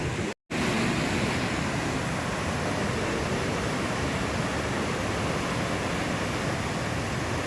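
A river flows beside a guest house in Munnar, a steady, close rush of water with no other sounds and a brief dropout near the start.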